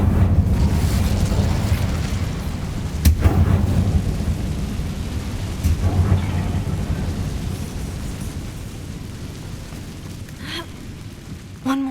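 An Incendio fire spell is cast in Hogwarts Legacy, with deep rumbling whooshes and booming bursts of flame repeating over several seconds, loud and close, fading toward the end.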